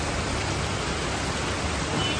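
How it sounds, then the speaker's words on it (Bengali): Heavy rain pours down in a steady, dense roar of hiss that fills the space without letup, loud and close, with no voices. "অনেক জোরে বৃষ্টি হচ্ছে অনেক জোরে"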